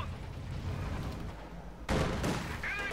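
Gunfire from a T-70 light tank and snipers in the strategy game Company of Heroes 2, heard as a low rumble of battle that breaks into louder, denser shots and impacts late on, with no talk.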